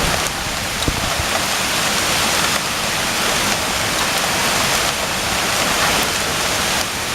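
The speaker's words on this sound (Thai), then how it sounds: "มาปิดกองทรายไม่ให้มันไหลไปกับน้ำปรากฏว่าเม็ดอะไรหล่นมาก็เป็นลูกเห็บนะ" A hailstorm in Mae Taeng, Chiang Mai, drops fingertip-sized hailstones onto the ground, making a loud, dense, continuous roar like a heavy downpour that stays close and unbroken throughout.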